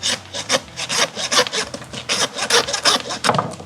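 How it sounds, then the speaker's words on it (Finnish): A hand saw rasps back and forth through beef loin bone while steaks are cut, giving a close, loud train of rhythmic strokes with brief pauses between them. "sit taas saha käteen."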